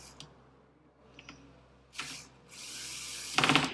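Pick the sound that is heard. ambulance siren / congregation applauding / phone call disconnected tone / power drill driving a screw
power drill driving a screw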